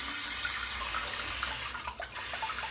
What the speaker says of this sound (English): I won't be able to edit that sound of water, that water sound out